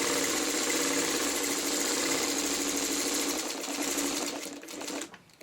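Sewing machine stitching a quilt block, a fast steady mechanical whirring hum of needle strokes close up that runs evenly, then slows and stops.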